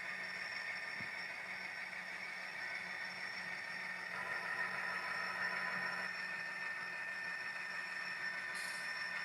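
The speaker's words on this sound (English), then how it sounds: "these sound locos, although it's not loud in the room, the microphone does like to" An HO scale sound-equipped model locomotive runs on a shelf layout, giving a steady, low-level mechanical hum and whine with faint rail-like rumble that continues evenly throughout, distant and quiet, with no voices.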